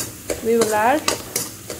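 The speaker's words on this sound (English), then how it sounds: "And it's frying well." Oil sizzles and fries steadily in a pan with chopped vegetables and sambar powder, with a voice speaking briefly over the crackle.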